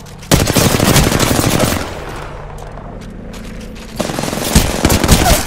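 Rapid automatic gunfire bursts in the Apex Legends battle royale game, loud and close, pausing briefly in the middle before another sustained volley resumes.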